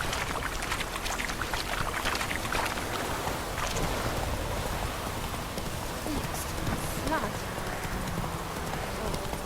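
Roach the horse trots steadily on hooves in The Witcher 3. The clip-clop runs continuously under a dense wash of rain-like background noise, at moderate loudness throughout.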